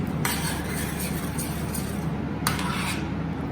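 Pasta sauce in a pan being stirred after salt and black pepper go in, a soft continuous scraping with two brief clinks of a utensil against the pan, near and without talk.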